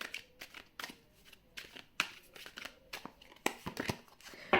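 Tarot cards are shuffled and drawn close by, with a series of crisp riffling and flicking bursts separated by short pauses.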